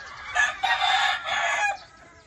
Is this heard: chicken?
yes